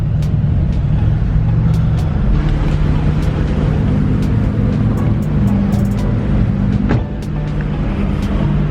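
A convoy of performance cars (BMW M5, Mercedes E63, Porsche Turbo, Lamborghini Huracan and AMG GT S) rolling together, heard as a loud, steady engine and road drone that dips slightly near the end.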